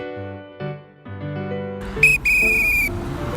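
A traffic safety guard at a children's crossing gives one sharp, shrill whistle blast lasting under a second, loud and close, after a stretch of soft tonal background sound.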